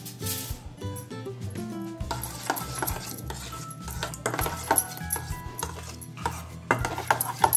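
Spices (red chilli powder, turmeric and salt) being stirred into vegetables for veg biryani in a pan, with a spoon scraping and clinking against metal in uneven strokes under a soft sizzle.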